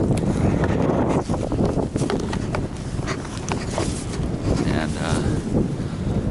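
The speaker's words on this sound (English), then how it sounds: "It is very windy." Strong gusting wind at Poplar Stamp Gap on the Appalachian Trail in Georgia buffets the microphone with loud, continuous rumbling roar, surging and easing without pause.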